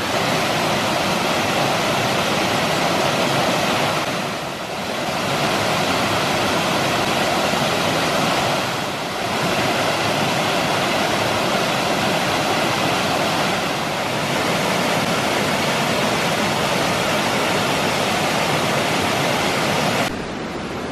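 Powerful water rushes beneath partly frozen ice, a loud, continuous roar like a waterfall that dips briefly a few times and stays constant throughout, with no voices.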